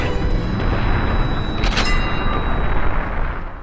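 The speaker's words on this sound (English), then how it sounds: "A grenade explosion can make you deaf." A grenade explodes in the World War II shooter Medal of Honor Allied Assault, Operation Neptune mission, a loud booming blast with a sharp burst near the middle over dense, continuous battle rumble.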